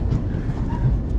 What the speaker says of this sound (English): there goes the last tram